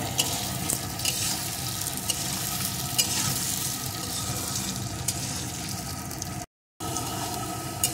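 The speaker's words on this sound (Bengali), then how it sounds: "এখন আলুগুলো লাল লাল করে ভেজে নেব" Cut potato pieces with a little salt frying in oil in a pan, a soft steady sizzle with faint stirring scrapes, close and fairly quiet, no talking.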